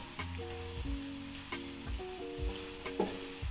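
Turmeric dropped into hot tempering oil with fried ingredients while making kanda poha, a soft close sizzle with light stirring clinks, no talk.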